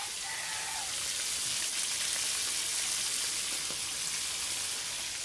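Fish frying in oil in a pan gives a steady, dense, loud sizzle that runs unbroken throughout, with faint clinks and no talking.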